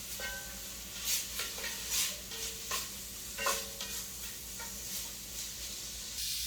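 Chopped garlic and vegetables sizzle in a pan as a spoon stirs them, a soft steady frying hiss broken by several brief scraping stirs, close and without speech.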